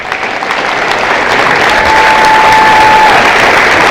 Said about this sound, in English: I think one more time we give all of them a round of applause